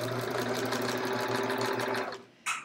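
A sewing machine fitted with a walking foot stitches quilting lines on a chevron quilt, running as a steady close mechanical whir for about two seconds before stopping, followed by a brief soft clatter.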